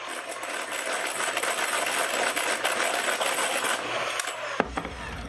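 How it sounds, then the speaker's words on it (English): A hand mixer beats sugar into a vegan amaretti cookie mixture, its motor giving a loud, steady whirring buzz for several seconds before it cuts off with a brief clunk. "since I'm gonna use a hand mixer, I'm gonna do little bits at a time"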